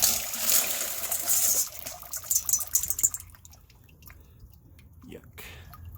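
Rock tumbler contents with water from a Tumble Bee tumbler being poured out, a splashing gush that rattles for a couple of seconds, then fades into faint drips and trickles.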